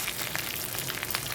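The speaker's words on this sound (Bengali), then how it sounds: "এভাবে খুন্তির সাহায্যে একটু ভেঙে আমি ভালো করে ভেজে নেব।" Hilsa fish heads fry in hot oil in a pan, a steady close sizzle with crackling pops and the occasional scrape of a spatula breaking them apart.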